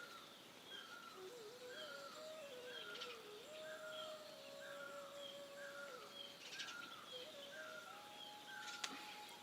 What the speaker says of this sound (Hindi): पंछियों की चहचहाट अगर आप फील कर पा रहे तो जस्ट सी द कोयल